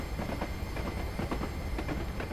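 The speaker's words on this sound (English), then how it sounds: "Flange squeal." A Class 37 locomotive and its train rumble steadily with a constant roar as the wheels pass, faint flange squeal ringing within the din, with no talk over it.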